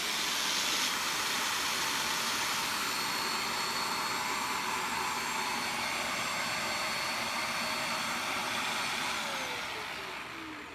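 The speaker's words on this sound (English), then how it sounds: "I turn it on, run this hydro clean through, and it just clears out all the dirt that's in this tank here." A Bissell Spot Clean Pet Pro carpet cleaner runs its hydro clean cycle, giving a steady loud whirring motor hiss with no voices, easing off slightly near the end.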